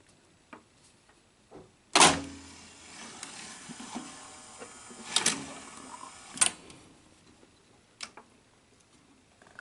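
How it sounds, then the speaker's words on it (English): A Sony SL-7200 Betamax video cassette recorder loads a Beta 1 cassette with a few sharp mechanical clunks and clicks, the loudest at the start and middle, followed by quieter ticking and whirring in a quiet room. "are going to play this Beta 1 cassette in a Beta 1 Betamax machine."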